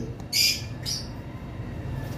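Two sharp, loud lovebird squawks ring out close by, one after another, over a quiet background.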